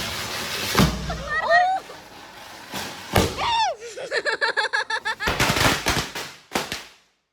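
Diwali firecrackers burst close by in sharp, loud cracks, followed by a quick rattling string of pops and whistling fizzes, with voices talking in between.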